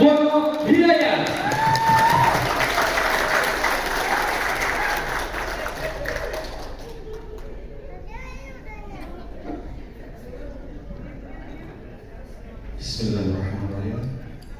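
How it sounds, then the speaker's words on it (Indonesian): An audience bursts into lively applause to welcome a speaker at a formal gathering, loud clapping with children's voices and crowd chatter mixed in, fading after several seconds into a murmuring hall before a voice takes over. "kita sambut dengan tepuk tangan yang paling meriah"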